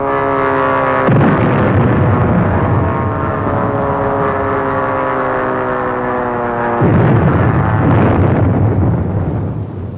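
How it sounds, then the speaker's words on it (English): Bombs exploding against the old battleship Ostfriesland in archival footage: two heavy rumbling blasts, one near the start and one near the end, over a continuous droning engine hum. "The big show was the bombing of the battleship Ostfriesland."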